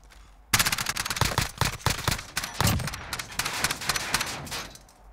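Dense automatic gunfire from the Modern Warfare video game during a bomb-defence round: rapid, loud, overlapping bursts of shots crackle almost nonstop for about four and a half seconds after a brief quiet start.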